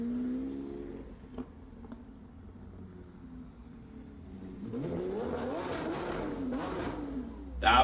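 A Lamborghini being driven out of a dealership idles softly, then its engine revs up loudly for several seconds before a sharp final blip, with people talking nearby.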